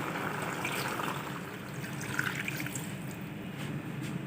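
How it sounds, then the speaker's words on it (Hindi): A soft, steady wash of a glass of water pouring into a pressure cooker of mutton, faint and continuous throughout with no talking. "1 गिलास पानी ऐड करेंगे।"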